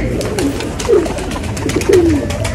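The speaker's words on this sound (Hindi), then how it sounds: "ये दो कबूतर अंदर जाएंगे।" Pigeons coo close by in two soft, rolling calls about a second apart, over a constant low background hum.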